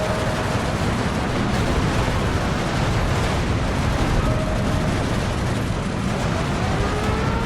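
Steady rumbling battle din of tank cannon fire against massed T-34s in Steel Division, a continuous wash of booms and explosions with no distinct pauses.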